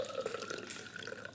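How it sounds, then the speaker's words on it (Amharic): Lukewarm water poured into a cup, a short close splashing trickle with a rising gurgle, no voices. "በግማሹ ደግሞ ለብ ያለ ውሃ ነው የምሞላው።"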